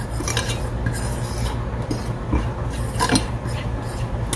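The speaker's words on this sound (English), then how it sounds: "I'm just stirring the house seasoning in my flour." House seasoning being stirred into flour for fried chicken livers, with steady, close scraping and rubbing of a utensil against a bowl and occasional louder clinks, continuous and without talk.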